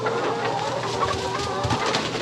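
Several chickens cluck and murmur close by, a steady, busy flock chatter with no talking.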